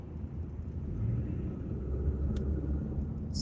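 Low, steady rumble of slow freeway traffic crawling at about 20 mph, heard from inside a moving car, with a brief faint tick near the end and no voices.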